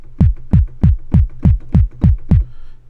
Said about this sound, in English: you get a nice kick